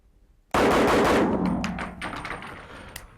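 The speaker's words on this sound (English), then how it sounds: "4 quick shots fired, 4 shots recorded." Four pistol shots fired in rapid succession on a shooting range, loud and close, merging into one sharp burst. A reverberant tail fades away over the next two seconds.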